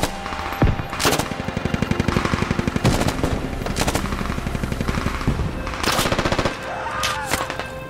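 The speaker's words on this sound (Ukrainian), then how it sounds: "з рук з кулемета стріляти максимально неблагодарне діло" Machine gun fired unsupported from the hands in the military shooter game Squad: rapid, loud bursts of automatic fire with short gaps between them, and single shots and faint voices in the background.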